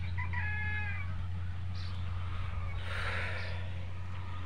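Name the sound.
farm chickens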